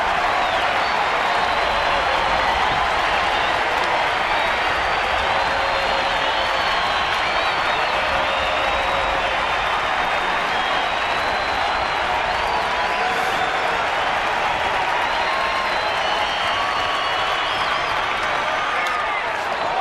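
Large stadium crowd at a Giants baseball game in San Francisco rises to its feet, with sustained loud applause, cheering and whoops forming a dense continuous roar throughout.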